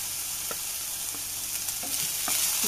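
Chopped green chilies and curry leaves frying in a pan, a steady loud sizzle with a few faint scrapes from stirring spaced through it, no voices.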